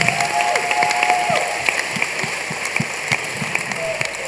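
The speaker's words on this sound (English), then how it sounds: "Round of applause for Pedal Band." Audience applause at the Young Rewired State 2015 hackathon presentation for a cycling project, a steady dense clatter of many hands clapping throughout with a little chatter and calls mixed in.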